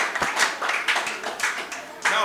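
A school audience at an upper-primary maths quiz claps briefly for a team that has just finished its round, scattered moderate clapping over a couple of seconds with some voices mixed in.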